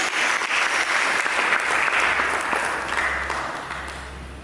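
Sustained applause from a church congregation honouring Jesus, a thick wash of many hands clapping at once, fairly loud and even, easing slightly toward the end.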